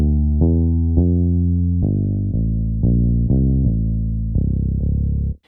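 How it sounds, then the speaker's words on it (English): Finger bass instrument from Expand in Pro Tools playing a deep, round bassline of separate sustained notes in a slow groove, loud and dry with no voices. "So this is the full finger bass."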